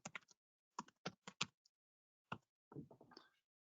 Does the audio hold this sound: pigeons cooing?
no